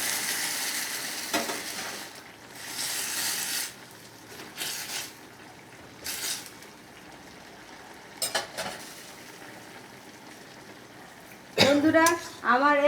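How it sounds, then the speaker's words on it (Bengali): Spice masala fries in oil for a rohu fish and potato curry with Malabar spinach, with bursts of sizzling, clinking utensil scrapes and stirring, then a sharper hiss toward the end. "নাড়িয়ে নিয়ে এই তেলটা আমি এই মশলার মধ্যে দিয়ে দেবো"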